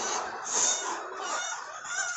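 Free-range village chickens (ayam kampung) cluck softly nearby, a brief low-level murmur of fowl calls with a faint higher call rising briefly in the middle.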